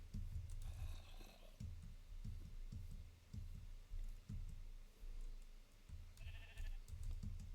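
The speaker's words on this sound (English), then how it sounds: "Of course you're a black sheep." Sheep in Minecraft bleat in short repeated calls amid steady clicking, likely from a keyboard, with no talking.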